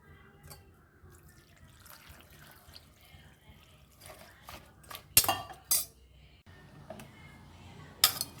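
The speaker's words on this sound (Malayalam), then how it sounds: "ഇനി വെള്ളം ഒഴിച്ചു കൊടുക്കാം." Water poured into a pressure cooker holding Kerala-style papaya erissery seasoned with chilli powder, turmeric and salt: faint, soft splashing and trickling, broken by a few sharp metallic clinks of utensils near the end.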